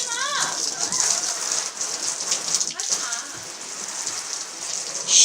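Water hose spray hissing steadily during a car wash, a continuous bright wash of spray throughout with shouting and excited voices over it.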